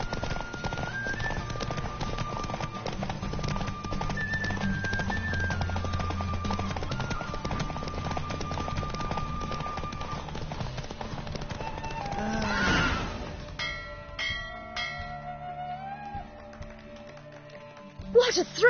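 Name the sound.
horse galloping in Witcher video game race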